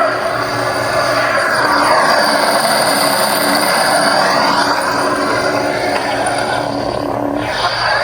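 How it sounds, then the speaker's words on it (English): Blade lockup effect from a custom Proffie Neopixel lightsaber: a loud, continuous crackling buzz with sweeping electronic tones and a constant underlying hum, sustained close-up for several seconds without speech. "blade lockup is holding the auxiliary button down and hitting the saber"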